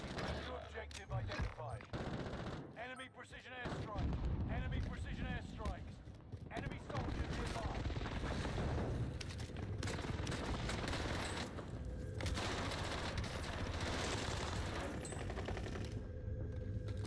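Rapid gunfire in the video game Warzone, dense bursts of automatic shots and scattered single cracks filling most of the stretch, loud and close, with someone talking over the action.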